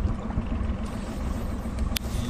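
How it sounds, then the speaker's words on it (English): A sailboat's inboard engine runs at a steady low rumble under open-air ambience, continuous and fairly close, with a brief click near the end and no talking. "I have the engine running."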